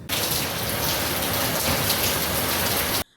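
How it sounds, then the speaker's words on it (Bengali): Heavy rain from the approach of Cyclone Remal pours down in a loud, dense, unbroken hiss of drops hitting surfaces, then cuts off abruptly. "আসার পরেই আবার মুসলধারে বৃষ্টিও নেমেছে"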